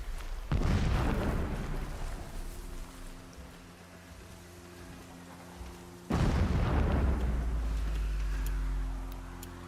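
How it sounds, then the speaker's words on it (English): Two distant explosions boom in the video game Horizon Zero Dawn Remastered, each a heavy thud followed by a long rumbling roll that fades out slowly. "Explosions in the distance."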